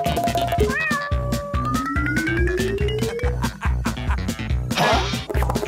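Cartoon cat meowing over a busy animated soundtrack, with rising tonal mews layered on music and sound effects and a brief scratchy burst near the end.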